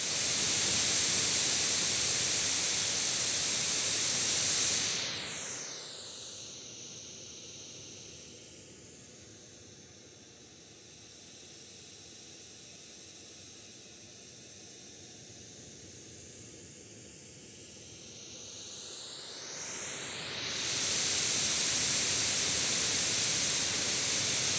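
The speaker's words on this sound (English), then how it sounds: "Let's use a little bit of white noise to illustrate that for you here." Steady white-noise hiss plays as a test for a Sony ECM-674 shotgun microphone, dipping in level for several seconds as the pickup turns off-axis, then swelling back to full strength.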